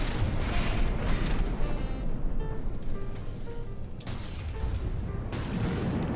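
Mortar and missile fire during a From the Depths naval battle, a dense continuous barrage of booming shots and blasts with sharp bursts standing out, loud throughout with faint tonal beeps.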